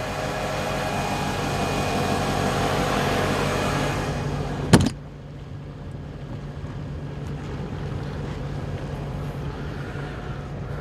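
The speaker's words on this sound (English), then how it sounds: "The engine just started up." A steady low boat engine rumble idling at a dock on Lake Erie, with wind and water noise, interrupted by a single sharp click midway, after which the idle continues slightly quieter.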